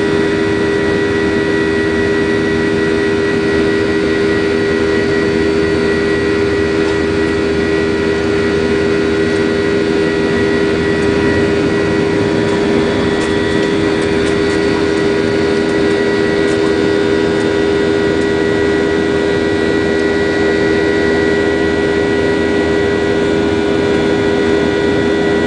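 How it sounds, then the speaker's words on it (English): A loud, steady airliner engine drone with a constant hum fills the whole stretch, heard from inside the cabin in flight. "Though the engines are really loud."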